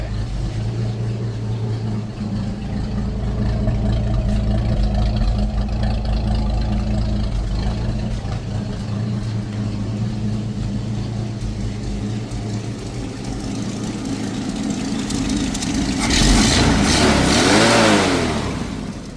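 A Ford XB Fairmont engine with an exhaust leak sits at a close, steady, loud idle, then rises into a sustained rev near the end before settling back down.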